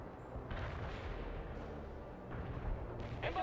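Artillery strike in the World in Conflict video game, a rumbling run of heavy booms and blasts rolling on for a few seconds at a distance, quiet overall.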